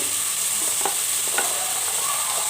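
Potatoes and carrots sizzling in a frying pan of tomato-based masala for an aloo, carrot and peas curry, a steady loud hiss with a few soft stirring knocks and clatters, no talking.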